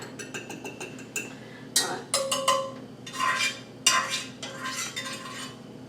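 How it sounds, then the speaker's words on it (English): A metal fork mixes ingredients, including pepper, in a dish for crock pot Swiss steak, producing close, irregular clinks and scrapes against the dish in quick bursts with no talking. "I'm going to take a fork and kind of mix it up like that"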